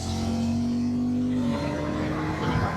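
A motorcycle engine on throttle through a corner on the SS65 Passo della Raticosa mountain road, a loud close steady drone that falls in pitch as the rider brakes, then picks up again as the throttle reopens.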